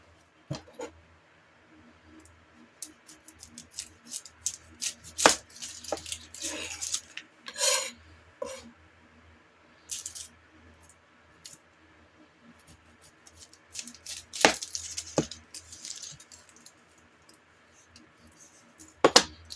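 Onion being peeled and chopped for a fermented Tabasco pepper hot sauce: dry papery rasps, crackling peel and scattered sharp knife clicks come in uneven bursts, close up, with no talking.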